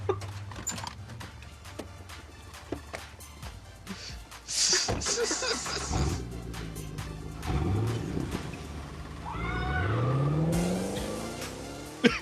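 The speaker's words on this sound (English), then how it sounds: "Nice car, though." A car drives through a residential neighborhood, its engine revving hard and rising in pitch, with a rough rumble swelling to a loud acceleration near the end and faint background voices.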